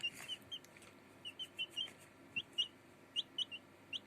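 Marans chickens cluck in short, repeated bursts, some close together and some spaced apart, quiet and close by over a low background hum.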